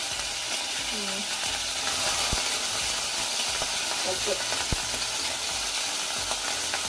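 Veg seekh kababs frying in a pan of oil give a steady, even sizzle and hiss throughout, with a few faint clinks and soft background sounds but no clear talking.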